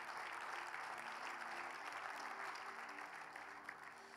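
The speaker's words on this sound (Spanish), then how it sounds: "Déselo fuertes aplausos al Señor." A church congregation gives loud praise applause to the Lord during a sermon, a steady dense patter of many hands heard at a distance, with a faint tonal hum underneath, gradually easing toward the end.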